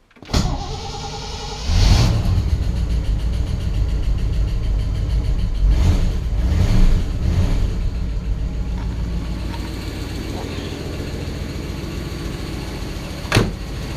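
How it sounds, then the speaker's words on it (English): A 1959 Chevrolet Bel Air, carbureted and sitting since September, cranks and catches on a cold start, then settles into a loud, steady idle with a slight rev near the start and a sharp click near the end. "so I'll hit the accelerator once to the floor and see what happens"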